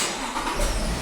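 A Toyota Land Cruiser 300 engine turning over and catching, a short, close burst of cranking that settles into a rumbling idle.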